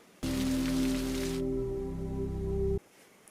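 Rain falls in a TV drama scene: a steady, dense hiss of rain, joined by a sustained low musical tone, runs for a couple of seconds and then cuts off abruptly. No one speaks.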